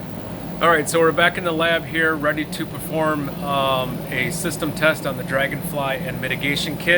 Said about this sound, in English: You can probably hear that the condenser is on and running right now.